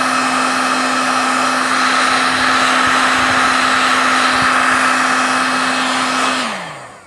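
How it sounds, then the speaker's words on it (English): A heat gun blows hot air in a steady loud roar with a constant motor hum, close by, then winds down and cuts off at the end. "These heat guns are great."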